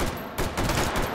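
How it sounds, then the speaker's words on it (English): A grenade goes off during a firefight in the Hot Dogs, Horseshoes & Hand Grenades VR game, giving a short, sharp burst of blasts mixed with gunfire-like cracks. It is brief and fairly loud. "That was a grenade."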